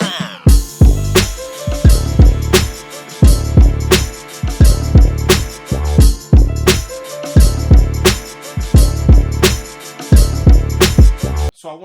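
Smooth hip hop beat, built on a chopped sample, with punchy kicks and snares hitting in a steady loop over a mellow melodic bed, loud and up front, no voices.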